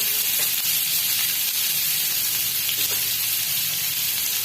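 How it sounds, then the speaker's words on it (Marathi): Onion and garlic, added with cumin to hot oil, fry in a pan with a loud, steady, close sizzle and hiss that runs unbroken throughout. "आणि परतून घ्यायचं आहे सोनेरी कलर येऊपर्यंत परतून घ्यायचा आहे कांदा"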